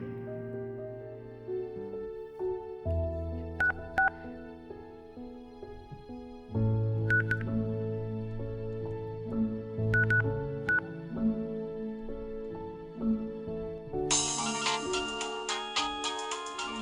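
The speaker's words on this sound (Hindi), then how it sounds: "एक बार फोन करके देखूं क्या।" Phone keypad tones beep in short pairs over steady background music, followed by a brighter electronic tone near the end.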